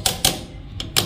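A sewing machine runs with its needle stitching, giving a few sharp rapid mechanical clacks over a low steady hum, close by.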